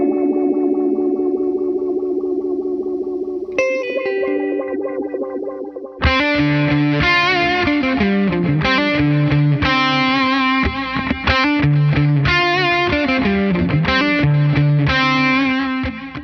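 Electric guitar running through an Encounter delay pedal, its repeats swept by a fast, deep filter modulation so each echo cycles through a full wobble; sustained tones give way to busy, distorted, pulsing phrases that stay loud throughout.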